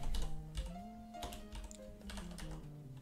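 Quick, fairly soft clicks of typing on a computer keyboard patter in an irregular rhythm, heard close, with a faint tonal hum from a computer underneath.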